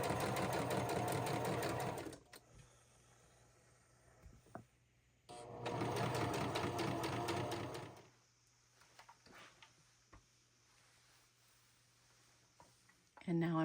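A home sewing machine stitches a tablecloth circle skirt in two loud steady runs, each about two seconds long, separated by quiet handling sounds.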